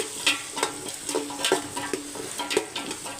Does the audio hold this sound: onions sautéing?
yes